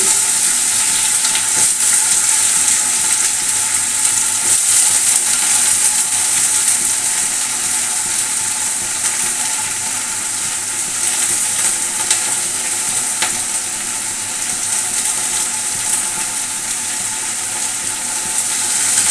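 Pumpkin stems, pumpkin, ridge gourd, eggplant and potato fry in a pan with a loud, continuous crackling sizzle that is close and bright, with faint scrapes of stirring and no voices.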